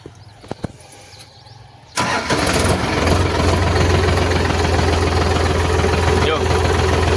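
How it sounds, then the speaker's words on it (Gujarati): A Solis 5515 4WD tractor's diesel engine cranks and catches after a few light clicks and knocks, then settles into a steady, loud, even idle close by. "આરામથી ટ્રેક્ટર સ્ટાર્ટ થઈ ગયું."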